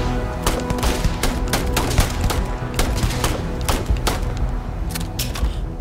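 Rapid bursts of automatic gunfire blast continuously in a Starfield firefight, dense overlapping shots crackling loud and close without pause.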